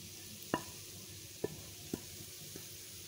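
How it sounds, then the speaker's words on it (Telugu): Grated coconut powder fries in hot ghee while being stirred. A steady, faint sizzle runs throughout, broken by four sharp spoon knocks against the pan at uneven intervals. "ఈ కొబ్బరి పౌడర్ని, అంతా కూడాను ఇందులో యాడ్ చేసుకోవాలి"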